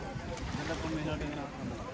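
A fishing boat arrives at a Malappuram beach in Parappanangadi, loaded with sardines: a continuous low rumble mixed with wind buffeting the microphone and sea noise, with people talking faintly nearby.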